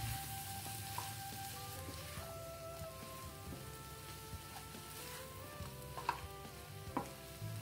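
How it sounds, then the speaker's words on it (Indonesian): Shredded cabbage and spring onion stir-fry in a hot pan with a spoonful of powdered stock, giving a steady close-up sizzle and crackle. Scattered spatula scrapes and taps sound over it, with no talking. "Digongseng-gongseng, ditumis sampai daun kolnya juga layu."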